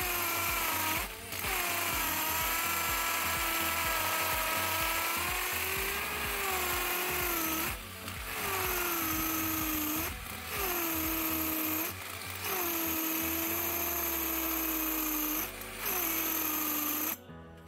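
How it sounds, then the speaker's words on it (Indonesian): A Gidly cordless brushless impact drill whines continuously on a nearly dead battery, its pitch wavering and sagging with several brief dips and stutters as the motor weakens. "ini tenaga dari bornya sudah mulai terasa melemah ya, mungkin karena baterainya sudah hampir habis"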